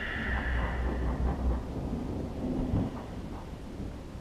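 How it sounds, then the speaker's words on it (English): Thunder from a storm rolling off Mount Evans rumbles low and deep during the first half, then fades under faint outdoor ambience. "I love filming when a storm's rolling in. It's rolling off Mount Evans right behind the camera."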